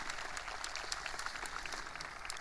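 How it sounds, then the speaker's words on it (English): A high school graduation audience applauds a senior competing at the regional track meet, with steady, moderately quiet clapping that rolls on without a break. "So let's give Tanner a round of applause as we wish him good luck this evening."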